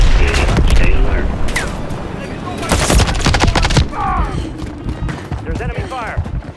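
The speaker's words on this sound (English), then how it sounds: "There's enemy fire." Enemy gunfire in the Unclassified Cargo video game at a harbor, loud bursts of rapid shots and sharp cracks clustered together, close, mixed with mechanical clatter and faint radio-style voices.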